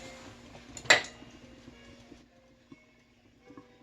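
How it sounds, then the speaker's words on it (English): An old, worn skillet set down on a stovetop, one sharp metallic clank near the start, followed by faint small knocks and quiet room noise. "Then I'm going to add my old raggedy skillet I love."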